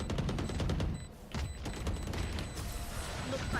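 Missile barrage in a video game: a loud run of rapid launches and explosions at first, then a brief lull before a steady, quieter rattle of mechanical clicks and distant impacts continues, with no speech.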